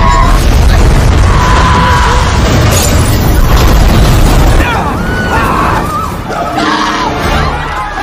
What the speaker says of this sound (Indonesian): akibat dari sambaran api lantas menyambar gas yang bocor dan ya, ledakan api terjadi.